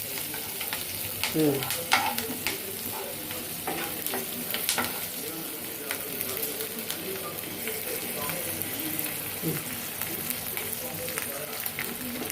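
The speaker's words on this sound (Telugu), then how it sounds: "అల్లం ముక్కలు ఇవన్నీ దోరగా వేసేసుకుందాం" Ginger pieces and small onions sizzle in hot oil in a pan while making a chicken starter, a steady crackling fry broken by occasional scrapes and stirs, close and continuous, with a voice speaking faintly at times.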